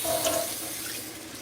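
Kitchen tap running as hands are washed during enchilada preparation, a brief soft stream of water with a faint splash, quiet and alone.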